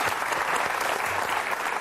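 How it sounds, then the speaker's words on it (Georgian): Steady, dense applause from an audience at a Tbilisi event celebrating a championship-winning team, a continuous loud clatter of many hands without a break. "აპლოდისმენტები ჭირდება"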